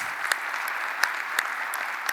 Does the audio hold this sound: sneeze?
no